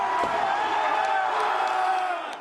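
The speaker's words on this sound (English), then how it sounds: "A crowd of jubilant anti-government protesters tears down a statue of Lenin" A jubilant crowd of anti-government protesters in Kyiv cheers and whoops as a Lenin statue is torn down, a dense sustained roar of many voices at a steady, loud level.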